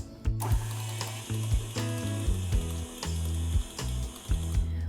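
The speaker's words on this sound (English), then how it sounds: "So we're gonna start mixing on low and then slowly add in our 4 egg yolks." A stand or hand electric mixer runs on low speed, beating egg yolks into cookie batter for Italian rainbow cookies, a steady whirring hum with rhythmic ticking and clattering pulses close by, no voices.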